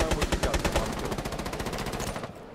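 Rapid automatic gunfire from Rainbow Six Siege, a dense run of about twenty quick shots in a steady rhythm, loud and close, cutting off abruptly near the end.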